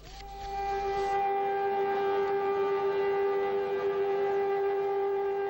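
A civil defense siren holds a long, steady wail on Israel's Memorial Day, sounding loud and sustained throughout with no speech over it.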